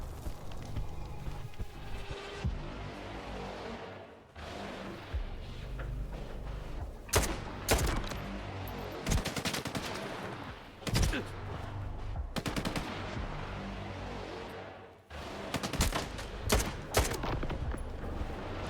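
Gunfire in S.T.A.L.K.E.R. 2 crackles in repeated bursts of automatic and single shots, some sharp and close, others duller and farther off, separated by brief lulls of ambient noise.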